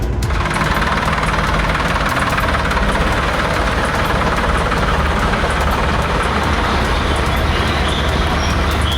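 A tractor engine carries an electricity board worker through a flooded village, its loud, steady low rumble and knocking idle throb running unbroken and close throughout.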